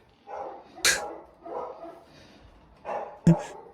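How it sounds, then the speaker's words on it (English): A dog gives two sharp, loud barks about two and a half seconds apart during a night-time home recording, with murmured voices between them. "Is that a toy dog, Eric?"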